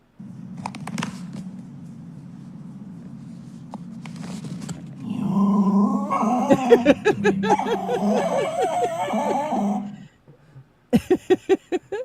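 A Jack Russell terrier growls in a low, steady rumble, then breaks into higher whimpering whines over a busier stretch, followed by a few sharp, close sounds near the end.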